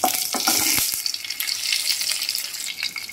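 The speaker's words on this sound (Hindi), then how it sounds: "1/2 टीस्पून ज़ीरा इसमें डाल के 5 मिनट तक सोते कर लेंगे।" Fennel, a cinnamon stick and cumin sauté in a pan for a smoky dahi paneer dish. They make a bright, crackling sizzle up close, with quick spatula strokes scraping the pan in bursts over a few seconds.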